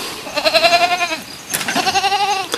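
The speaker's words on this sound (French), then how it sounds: "ce que vous entendez, c'est deux petits chevrons, ou chevrettes plus exactement." Two young goat kids on a teaching farm bleat loudly and close up, in two drawn-out, wavering calls separated by a brief pause.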